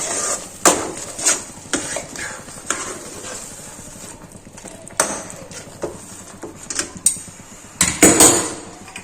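Mawa being stirred into carrot halwa in a pan, with irregular wooden or metal knocks and scrapes of the spoon against the pan, some sharp and close, spread through the stretch over a low background rumble.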